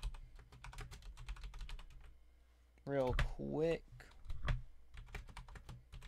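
Someone types on a computer keyboard sitting right beside the microphone, producing close, crisp rapid clicks that pause while someone speaks briefly and then resume.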